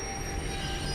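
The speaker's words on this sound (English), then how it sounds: "The train's coming!" A train bears down in the video game Life is Strange, its wheels squealing in a loud, continuous metallic screech over a heavy rumble, close and alone with no talk.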